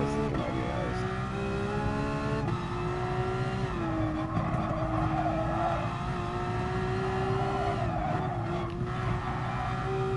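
A Porsche 911 GT3 RS races the Nordschleife in Gran Turismo Sport, its engine holding a loud sustained howl that climbs and drops with gear changes, alongside brief tire squeal.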